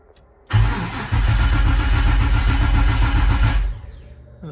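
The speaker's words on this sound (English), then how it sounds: "We have the fuel injectors disabled, so we can crank it up first and see the oil pressure." An LS-swapped Porsche engine cranks over with its fuel injectors disabled, a loud, steady, rhythmic starter churn lasting about three seconds with no firing, then a sudden stop.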